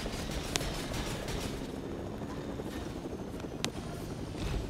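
A helicopter landing in Fortnite drones with a continuous loud rotor rumble throughout, punctuated by a couple of sharp brief clicks or impacts.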